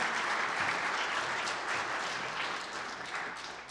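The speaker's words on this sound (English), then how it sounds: "I am not offended by loud and sustained applause." A lecture audience gives sustained applause, a full, dense patter of many hands clapping at even strength before gradually thinning toward the end, with no speech over it.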